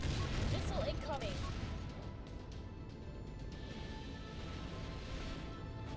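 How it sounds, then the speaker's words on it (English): Missile fire in a space naval strategy video game, a loud rushing launch with a whooshing, descending streak in the first two seconds, then a duller rumbling tail that stays steady beneath the game ambience. "Missile incoming."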